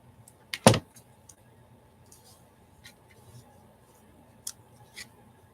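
A few crisp paper snips from scissors cutting a small image out of a paper sheet, one loud close cut followed by fainter scattered snips over a quiet background.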